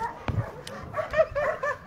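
Dogs at a shelter for homeless dogs give short yips and barks with whimpering, one sharp bark standing out among scattered softer canine sounds close by.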